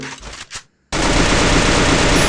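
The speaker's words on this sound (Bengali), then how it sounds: "পিছন থেকে এনিমির একটা ফায়ার পেলাম" Enemy gunfire in a sniper shooter video game: a couple of short sounds, a brief silence, then a loud, dense, sustained burst of rapid shots with no talking.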